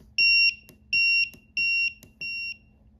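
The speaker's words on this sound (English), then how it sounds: "Should be able to change the volume on our alarm. So it's a lot lower now." A TickTime Pomodoro timer alarm set to a lower volume sounds four short, evenly spaced electronic beeps, clear and close with nothing else around them.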